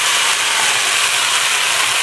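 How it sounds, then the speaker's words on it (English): Tomato sauce hitting frying split peas in a hot pan: a loud, dense, continuous sizzle with steady broadband hiss, close and unbroken throughout, no talk. "Excuse the sizzle."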